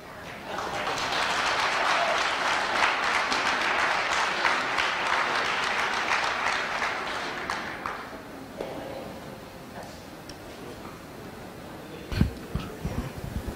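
Applause from an audience at a school board redistricting meeting, steady and moderately loud for about seven seconds, then dying away into quiet room sounds and a few knocks.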